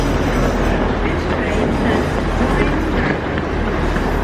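A British Rail Class 185 diesel multiple unit rolls through Leeds station, giving a steady, loud rumble of engine and wheels that stays constant throughout, with faint rail clatter mixed in.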